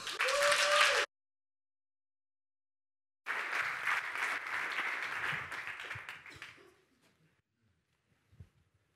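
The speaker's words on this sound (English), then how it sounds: "please give a round of applause for the last team of the day, Team Twire, co-founders Michael and Matthia" An audience at a startup demo day claps for the final team, a loud burst of applause after a short tone and silence, fading out over several seconds.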